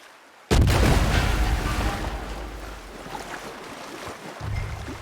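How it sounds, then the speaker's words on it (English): A single loud warning gunshot rings out in Red Dead Redemption 2 during a stagecoach robbery, a sharp blast followed by a long rolling echo that fades into low rumbling ambience. "Warning shot there for Micah"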